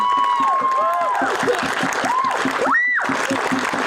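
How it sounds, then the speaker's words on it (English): Street protesters at a rally applaud and cheer, a busy layer of clapping and crowd noise beneath loud voices, with rising and falling whistle-like tones cutting through the din. "let's give him a round of applause for the work that he's doing."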